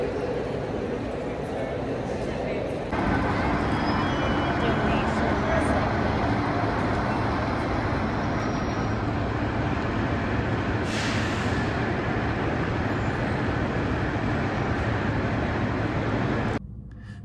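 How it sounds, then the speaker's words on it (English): A train rumbles loudly through a Washington, D.C. metro station, a dense, steady roar that begins abruptly, holds for about fourteen seconds, then cuts off. "So I'm here in Metro Station, figuring out where I go next"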